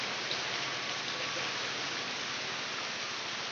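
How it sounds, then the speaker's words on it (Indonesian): Rain falls at night on a fishing dock, Dermaga Lewi Orok at Cirata reservoir, as an even, quiet hiss of drops that stays unchanged throughout. "hujan di Dermaga Lewi Orok ya."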